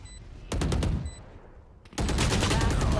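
Gunfire in the tactical shooter Valorant during an esports match, with two loud bursts of rapid automatic fire separated by a quieter gap, close and dominant.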